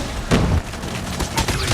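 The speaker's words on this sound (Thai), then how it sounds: "ปาระเบิดติดตัวศัตรู" Grenade blasts and gunfire in the mobile shooter Call of Duty Mobile come as loud, close booms and crackling bursts, layered with voices.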